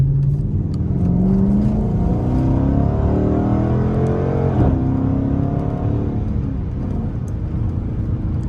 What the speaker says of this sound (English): it's taken to like 6 RPMs at least before it shifts in track